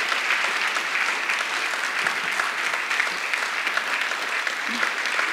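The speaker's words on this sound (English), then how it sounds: "Please, could you make a huge round of applause for our panelists," A conference audience applauds the panelists after a discussion, a dense, steady wash of many hands clapping that stays loud and even throughout with no talk over it.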